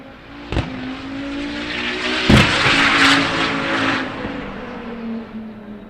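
A twin-turbo time attack race car of over 1,200 horsepower runs on track at a motorsport festival, its engine roaring and rising in pitch as it passes close, with sharp bangs and a broad whooshing swell, no talk.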